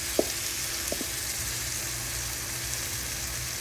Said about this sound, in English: now I'm gonna go ahead and add the entire contents of my marinara sauce